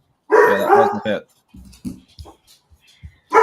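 A hound barks in a loud burst of several overlapping barks near the start, followed by quieter yips and whimpers while someone talks.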